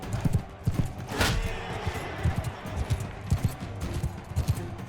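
Horses galloping in Mount & Blade Bannerlord, a rapid uneven drum of hoofbeats throughout with a sharp hit or clash in the middle, loud and close, beneath some faint battle noise.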